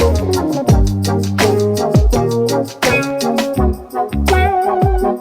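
A funky groove made with a Jamstik MIDI guitar in Logic Pro X, where synth guitar stabs sit over a deep bass line and steady drums in a dense, loud, full mix with no voices.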